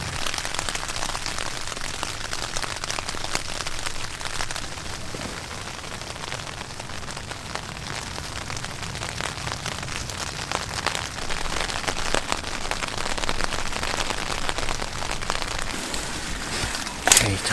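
Rain patters steadily on a tent at a beach camp, a dense, close crackling hiss that continues without a break.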